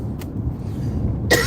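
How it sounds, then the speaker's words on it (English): A faint throaty sound comes first, then a single sharp cough near the end, over a steady low rumble. "I got this awful cough."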